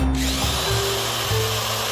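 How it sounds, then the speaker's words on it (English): An electric drill whirs steadily while blending suet, a loud continuous motor drone with a slight wobble in pitch, heard up close and alone. "the drill is used to blend the rest of the suet"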